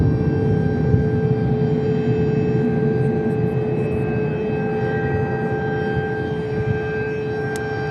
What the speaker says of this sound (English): Enjoying those F-16s at night.